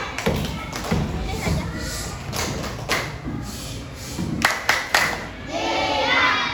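A class of fourth-grade pupils claps together in a classroom, giving a short burst of patterned, thumping claps at close range, with children's voices and talk mixed in.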